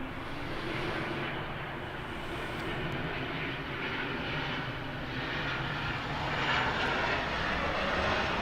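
A fixed-wing airliner at Los Angeles International Airport (LAX) on a busy runway, its engines producing a loud, steady broadband roar that swells slightly toward the end, continuous and without talk.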